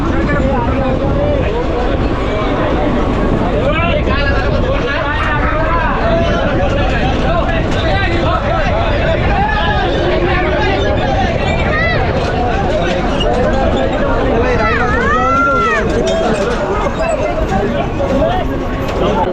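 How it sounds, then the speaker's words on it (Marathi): Dense crowd hubbub fills Nalasopara railway station on a night when the train runs late, a steady wash of overlapping voices and chatter with station and traffic noise beneath, loud and continuous throughout. "गर्दी बघितलीस काय?"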